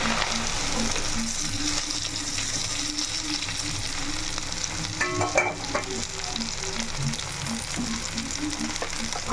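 Gongura leaves fry steadily in a pan with a continuous close sizzle, punctuated by a regular series of soft scraping stir strokes throughout.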